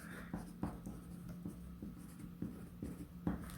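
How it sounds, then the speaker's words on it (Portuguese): Pencil writing on paper in short scratchy strokes, a steady run of close, quiet scribbles with small pauses between them, heard alone with no talking. "Porque a gente tem que escrever de lápis."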